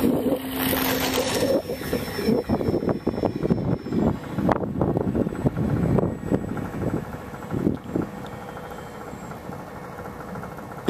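T-28 model airplane flying on a windy day, its engine droning and rising and falling as it passes, with wind buffeting the microphone and the drone fading out toward the end.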